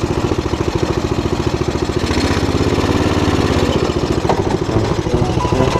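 A loud race car engine runs hard and steadily throughout, a rough, rapid pulsing roar with no pauses and no voices.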